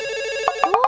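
A telephone ringtone chimes in short repeated electronic bursts, fairly loud and clear, rising in pitch over the last half-second with no talking over it.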